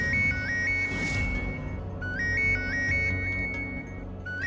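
A mobile phone ringtone for an incoming call chirps through a repeating melodic pattern for several seconds. It sounds fairly quiet and sits over a low background hum in a domestic scene.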